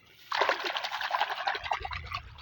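Water poured from a container into a pesticide mix for spraying a rice paddy, a steady splashing, trickling pour that starts abruptly and continues close by, with a low rumble joining toward the end.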